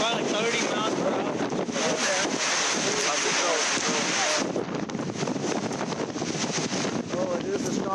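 A strong storm wind roars outdoors, buffeting the microphone in a loud, steady rush with gusty swells, and voices talk faintly beneath it.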